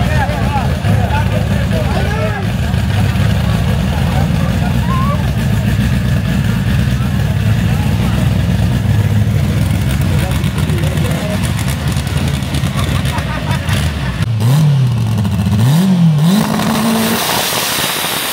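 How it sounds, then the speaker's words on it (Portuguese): A car doing a burnout at a drag strip, its engine droning loudly and steadily with tire roar, the revs climbing and wavering near the end, while a voice talks over it. "Burnout, muito bem feito."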